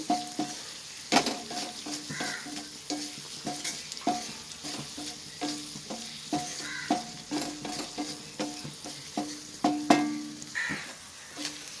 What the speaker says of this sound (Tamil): கிரேவி மாதிரியும் இல்லாமல் டீப் ஃப்ரையும் பண்ணாமல் சாதத்தில் விதையை சாப்பிட்றதுக்கு ஒரு அருமையான இறால் ரோஸ்ட் செஞ்சுட்டேன்